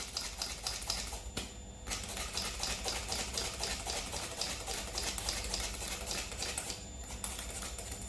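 Icing sugar and almond powder being sifted through a sieve for chocolate macarons: a steady, rhythmic patter of tapping and rustling that runs the whole time, close and fairly even, with no voices.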